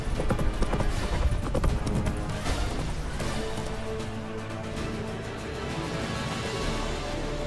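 Horse hooves gallop in The Witcher 3 video game, a rapid, loud clip-clop rhythm over a busy rumbling battle backdrop with crashes, fading into a steadier hum.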